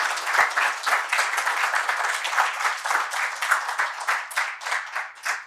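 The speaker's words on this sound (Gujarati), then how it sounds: "બંને વક્તાઓનું ખૂબ તાળીથી અભિવાદન કરીએ" Audience applause at a Gujarati literary talk event, a steady crowd of many hands clapping for about five seconds, dense and even with slight swells, heard alone without voices.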